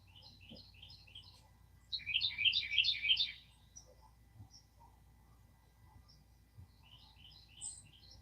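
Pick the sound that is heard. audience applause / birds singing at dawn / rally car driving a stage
birds singing at dawn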